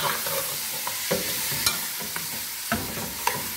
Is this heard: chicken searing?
yes